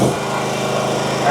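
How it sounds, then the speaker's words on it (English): A RedMax CZT54X zero-turn mower engine, suspected of an ignition fault, runs loud and close with a steady high buzzing drone that swells slightly near the end as it revs. "if we rev it up, is it still going to do the surging thing?"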